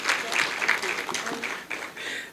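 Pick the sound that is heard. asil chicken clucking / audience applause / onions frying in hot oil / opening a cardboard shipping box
audience applause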